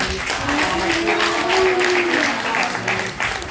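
An audience claps and cheers at a school event where Sanskrit poems were recited, a dense continuous wash of applause with voices mixed in.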